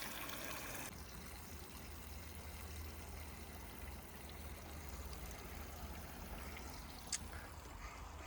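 Spring water trickles out of a spring box at a natural spring in Alaska, a continuous soft rushing and burbling flow with one brief tick near the end.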